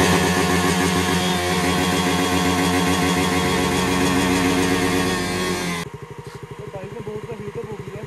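A motorbike engine with a chain problem runs loud and steady for about six seconds, then drops to a rougher, pulsing idle. The bike had been worn out by off-road riding.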